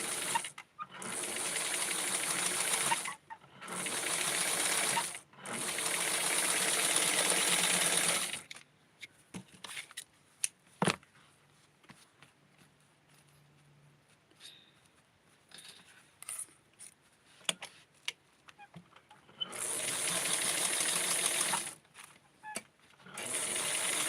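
A sewing machine stitches lace in several loud bursts of steady whirring, then falls quiet for a stretch of faint handling sounds and small clicks before one final run of stitching close by.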